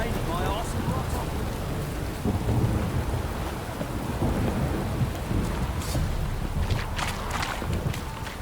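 Steady rain pours during a thunderstorm in The Witcher 3, with low rolling thunder rumbling underneath and scattered sharper cracks and splashes, a continuous wet wash filling the whole stretch without any talk.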